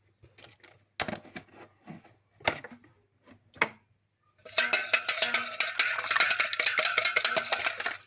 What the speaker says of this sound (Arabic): وهنقلبهم كويس جدا مع بعض